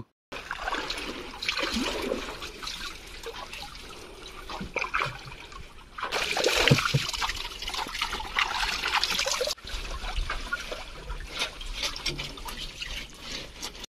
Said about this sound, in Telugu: ఇక మొత్తం ఎట్లా కడుగుతాను చూడండి మనోడు, మొత్తం నీట్గా మన్ను లేకుండా